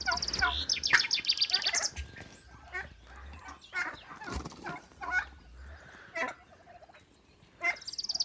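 A turkey gobbles in rapid bursts at the start and again at the end, with other fowl clucking and chirping in between.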